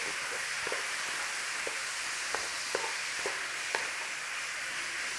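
Beef mince fries in a pan for a cottage pie while being broken up, a loud, steady close sizzle punctuated by a handful of light scrapes and taps from the utensil.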